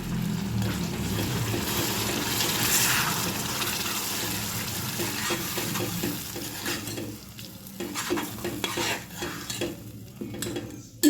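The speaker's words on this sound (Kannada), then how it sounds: "ಈಗ ನಾವು ಟೊಮೆಟೊ ಪ್ಯೂರಿ ಹಾಕ್ಕೊಳ್ಳೋಣ" Tomato puree goes into dried red chilies frying in a pan for a curry-leaf gojju. It makes a loud, continuous sizzle under busy stirring, with spoon scrapes and clinks against the pan growing choppier toward the end.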